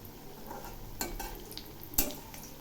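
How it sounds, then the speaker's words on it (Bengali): Jackfruit kofta balls fry in salted oil on very low heat, giving a soft, steady sizzle with a couple of brief clinks from stirring or turning, close by and fairly quiet. "এবার আমি ভেজে নিচ্ছি। বাকি দুটো দিয়ে দিলাম। এগুলি আমি একদম লো আঁচে ভেজে নেব।"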